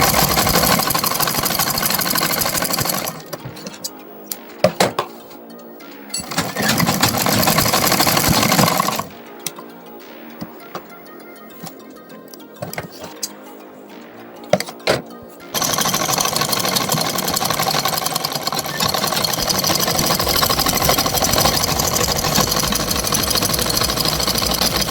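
A sewing machine double-stitches a kurta sleeve in loud close bursts: a short run, a pause, another few seconds of stitching, a quieter lull with faint handling, then a long unbroken run to the end.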